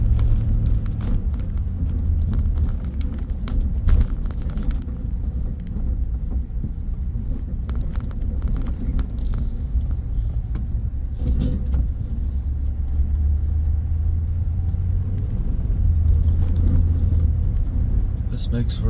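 A car drives along a road through hot, dry country near Okanogan, Washington, giving a steady low rumble of engine and tyre noise, with a voice speaking over it.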